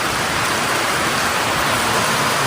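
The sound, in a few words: heavy rain falling at Penchalakona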